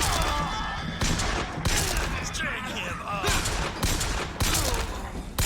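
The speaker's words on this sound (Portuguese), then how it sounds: "Tô errando os tiros tudo" Rapid bursts of gunfire in the video game BioShock Infinite, repeated volleys and single shots, loud and close, with a voice occasionally heard between them.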